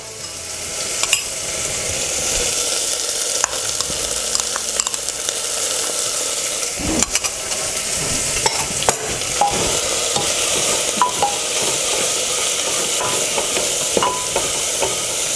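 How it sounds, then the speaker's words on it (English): Onion with garlic ginger paste fries in a pan for goat curry, a loud continuous sizzle broken by scattered scrapes and knocks of stirring, close and without speech. "Once the onion, garlic, ginger gets slightly fried, we start adding the spices"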